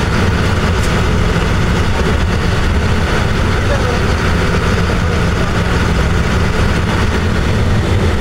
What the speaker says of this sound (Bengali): গাড়িগুলো কত স্পিড চলে দেখেন।